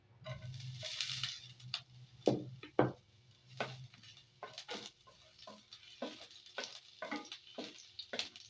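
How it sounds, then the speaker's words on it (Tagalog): Garlic sautéing in a hot pan for ginataang puso ng saging, heard as a soft sizzle with repeated scraping stir strokes and utensil taps against the pan, close and fairly quiet. "Magigisa muna tayo ng sibuyas at saka bawang."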